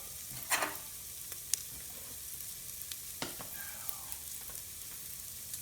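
Butter goes into a flour roux cooking in a rice cooker, giving a faint, steady sizzle with a few soft scrapes and clicks of stirring, heard alone without talking.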